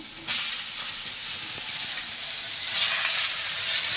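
Leafy greens (shak) dropped into hot oil with fried eggplant: a sharp burst of sizzling starts suddenly and then holds as a loud, close, steady hiss, swelling again near the end, with no voices.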